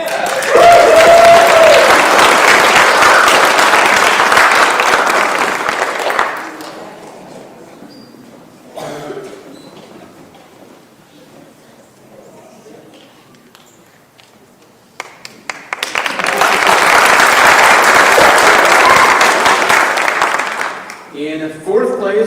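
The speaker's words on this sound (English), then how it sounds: "applause" Audience applause at a spelling bee: loud, dense clapping for about six seconds, a quieter stretch with an announcer's voice, then a second strong burst of clapping near the end.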